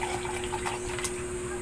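Water running steadily from a tap or pump, a continuous even wash with a faint high hiss and a low hum alongside, alone with no talking.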